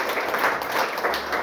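A church congregation claps and cheers together, a dense sustained wash of applause at moderate distance.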